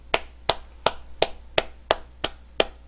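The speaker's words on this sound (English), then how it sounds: "Big round of applause." A single pair of hands claps about eight times at a steady, slightly quick pace, each crisp clap close and distinct against a quiet background, celebrating a hockey card giveaway winner.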